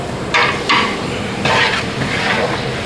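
Onions with cinnamon, cloves and cardamom fry in oil over a high flame, a steady sizzle broken by a few sharp scraping stirs of a utensil against the pan.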